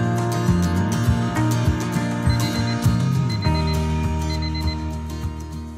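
A timer alarm rings in a household hallway with a steady, bright, repeating electronic beeping that holds at an even level for several seconds.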